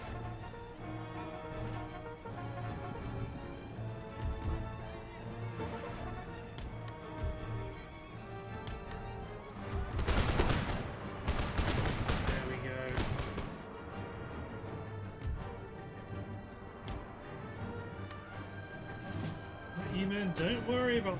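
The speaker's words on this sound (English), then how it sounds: "start engaging them with musketry" Musket volleys crackle in an Empire Total War battle at Venice, with a dense burst of shots around the middle over a steady rumble of battlefield ambience.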